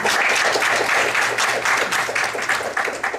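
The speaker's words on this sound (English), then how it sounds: "Let's give them a warm applause for their presentation." Steady, dense applause from a large conference audience after a presentation, many hands clapping at once with no break, filling the room at full volume.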